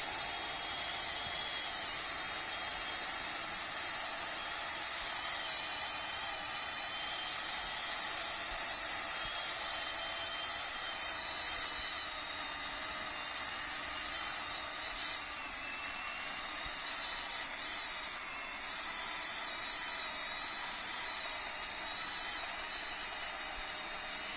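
An OSUKA OCCS430 cordless chainsaw with an 11.5-inch bar whines at high pitch as it bites through a thick log, a continuous loud, close motor drone with slight dips in load.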